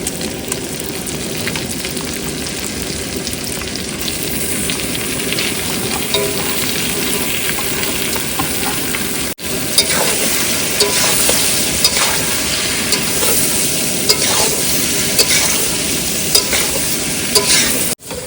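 Food frying in a pan with salt and turmeric while being stirred, cooked on a boat in the Sundarbans in winter: a continuous loud sizzle with scraping stirring strokes and a brief pause midway.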